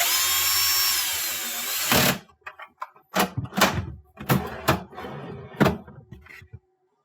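A power drill drives a quarter-inch screw into a GE refrigerator's fan cover, a loud whirring run that stops abruptly, followed by several short thunks and clunks of handling.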